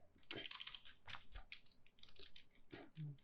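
Keys clatter on a computer keyboard while class names are typed into JavaScript code, a quiet, irregular run of soft clicks and taps across the whole stretch with no voices.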